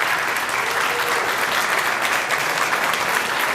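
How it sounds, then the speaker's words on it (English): Steady, dense applause from a church congregation at a Sunday worship service, continuous and even throughout with no pauses. "with so much applause"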